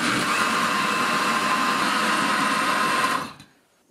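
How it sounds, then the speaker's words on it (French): A blender whirs steadily at its lowest speed, loud and close, mixing for about three seconds before the motor cuts off and winds down into quiet. "On rallume et on va mixer 10 secondes"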